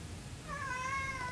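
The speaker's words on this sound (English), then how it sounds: "I'm petting my happy cat" A cat meows while being petted, a single drawn-out, rising and falling meow starting about halfway in over a low rumbling background, fairly close and clear.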